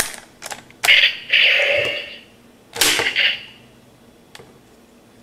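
A Gokai Saber toy sword with a red Gokai Red Ranger key inserted fires its electronic sound effect: sharp bursts and noisy blasts followed by a quieter tail and a final click, close and fairly loud, no one speaking.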